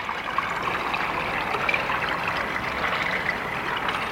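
Water flows steadily through a newly built pond bog filter outdoors, a continuous trickling, splashing stream heard up close with no one talking.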